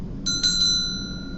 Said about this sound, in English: it's a bell